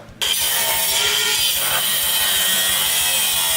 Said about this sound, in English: I sanded it off